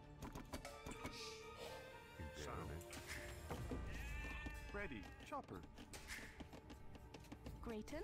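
Sheep bleat several times in the Age of Empires II: Definitive Edition video game, mixed with game music, keyboard typing and someone talking throughout.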